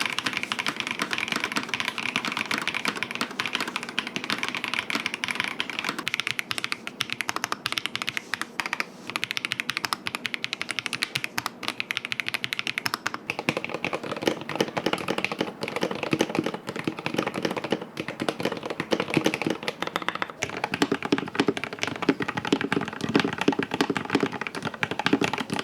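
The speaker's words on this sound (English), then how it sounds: "just testing the sound of this keyboard with a few comparison with other mechanical keyboards in my collection" Continuous typing on a Logitech Alto Keys K98M, a compact 98-key mechanical keyboard, with dense, steady clacks and taps at close range throughout. The texture shifts partway through, as if compared against other mechanical keyboards.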